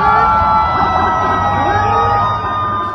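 Dozens of ambulances racing to rush sick students to a hospital in Cililin, West Bandung, their siren tones sustained and fairly loud over a dense, busy street and crowd din, with no talking.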